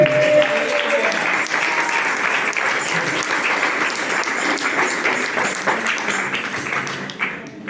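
A church congregation applauds steadily and loudly for about seven seconds, a dense wash of many hands clapping that fades at the end.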